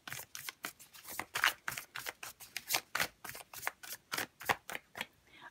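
Tarot cards shuffled by hand, close and fairly soft, in a steady series of quick riffling flicks and slaps.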